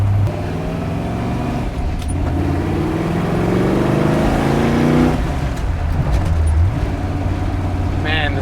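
A 1965 Shelby GT350's engine revs and pulls through the gears, its side exhaust droning and rising in pitch, heard from inside alongside occasional talk.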